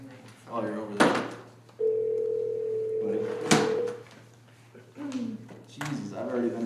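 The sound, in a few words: telephone dial tone on conference call-in line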